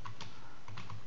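Fast, continuous clatter of a computer keyboard as someone types while writing MySQL database code, close and steady with no pauses and no talking.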